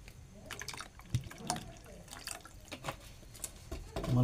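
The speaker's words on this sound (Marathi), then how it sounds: "तर आपण त्याच्यात थोडंसं पाणी टाकणार आहोत." Water is poured into a pot of sweet lentil dal as it cooks, close splashing and dripping in short irregular bursts, with brief sounds of the pot being handled.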